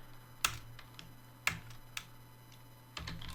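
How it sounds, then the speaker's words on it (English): A computer keyboard being typed on in a quiet room: a handful of crisp, close key clicks spaced unevenly over a few seconds, with faint background hum. "So let's type here Serenity"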